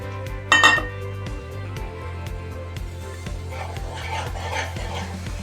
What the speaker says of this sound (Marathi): मिक्सरमध्ये थोडं वाटप राहिलं होतं, ते काढून घेते।